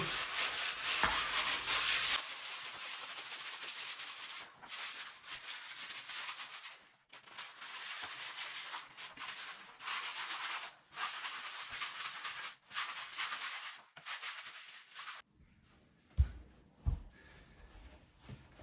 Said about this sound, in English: make sure you use a very, very smooth sandpaper so you can barely see it. You just take it around, circular motion.